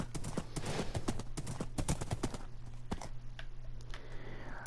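Horse hooves clip-clopping in Minecraft, a quick irregular run of hoof taps that thins out and slows toward the end, close and clear with no talk over it.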